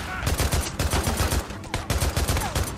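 Rapid video game gunfire from military gear, with shotgun fire among it, hammers in dense, loud bursts with brief gaps throughout.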